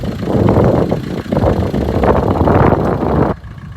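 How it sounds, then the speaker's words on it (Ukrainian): A 2018 Renault Megane 4 1.5 diesel engine with 249,000 km idles steadily with a rough, chugging rumble, loud and close, then cuts off abruptly near the end. "Працює добре двигун, незважаючи на пробіг 249 тисяч."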